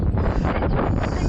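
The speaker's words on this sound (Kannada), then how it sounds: "ಏನು ವಿಂಡ್ ಬ್ಲಾಸ್ಟ್ ಗುರು" Gusting wind buffets a microphone outdoors on a bike ride to Mudigere with a loud, continuous low rumble and roar for about a second and a half.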